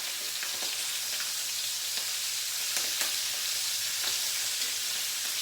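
Chicken thighs sizzle steadily in a hot pan as tongs flip them, giving a loud, continuous hiss with a few faint clicks and pops scattered throughout.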